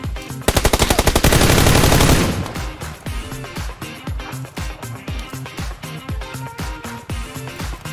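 Gunfire in the video game PUBG Lite: a rapid automatic burst up front, then a long run of evenly spaced single shots, loud and close, with no talking.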